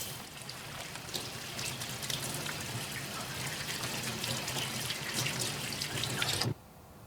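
Tap water runs steadily in a hiss and splash, close by, then cuts off abruptly near the end, leaving a quiet room tone.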